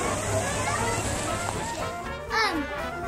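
Water sloshing and splashing in the Ouray hot springs pool in Colorado, a busy outdoor swimming scene with steady churning water, children's voices and other people talking over it.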